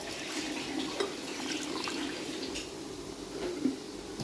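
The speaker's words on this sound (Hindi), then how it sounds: "इसके अंदर पानी डालेंगे" Water poured into a grinder jar of jaggery for a sweet summer sattu drink, a steady soft pouring and trickling running the whole time alone, with a couple of brief splashy bumps.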